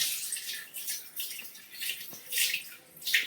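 A white cloth being rinsed under running tap water, with bursts of splashing and trickling that swell and fade, close by and fairly quiet, with no voices.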